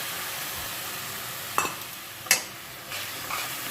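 Soaked ground spice paste goes into a hot pan for an Assamese bhujiya sabji and fries with a soft hiss, while a few distinct stirring scrapes sound close by.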